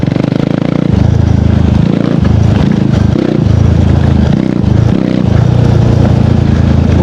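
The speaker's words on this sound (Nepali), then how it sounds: "म बाइक स्पिड कुदाउँछु होइन" A KTM Duke 390 motorcycle engine drones loudly and steadily at speed, with its pitch shifting as the throttle rises and falls, heard close up from the rider's position.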